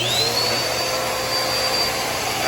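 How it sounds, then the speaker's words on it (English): An upright vacuum cleaner with a broken belt runs steadily, plugged into the wall, a loud continuous whine and roar with a high tone, close and with no voices. "I have it plugged into the wall, and we'll turn it on"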